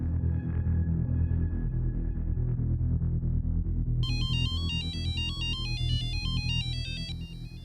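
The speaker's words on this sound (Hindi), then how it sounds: "इतनी रात को फोन किया?" Phone ringtone late at night, a bright electronic melody of looping beeping tones rising and falling, clear and steady over a low background hum, with no voices.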